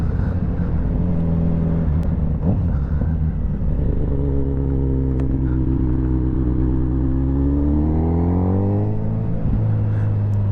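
A Kawasaki Z900RS motorcycle fitted with an Akrapovic exhaust idles with a deep, steady throb, then revs up and settles back down near the end, loud and close with no talk over it.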